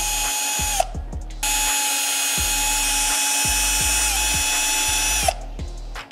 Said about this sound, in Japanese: まずはこのパッドと本体を止めているこの4本のネジですね、これをいつも通り外していきます